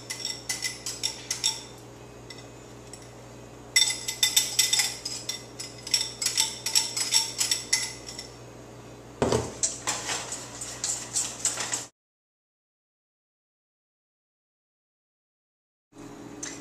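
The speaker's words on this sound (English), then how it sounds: "and then you whisk it all together" Rapid metallic ticking of a whisk beating sauce in a pot for moussaka, coming in close bursts with short pauses, then a clunk and scrape, then silence before the whisking resumes briefly.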